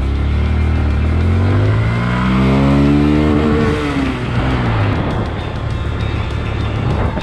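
A motorcycle engine revving up and accelerating as the rider pulls away on an evening ride, loud and close, its pitch climbing steadily before settling into a rough, sustained roar.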